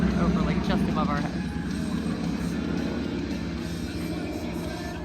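Small banner-towing beach plane flying low overhead, a steady propeller drone that lingers throughout while a person talks over it.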